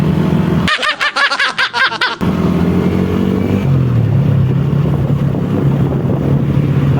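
A motorcycle engine turns over with a choppy, stuttering burst, then settles into a steady running drone, buffeted throughout by heavy wind noise on the microphone.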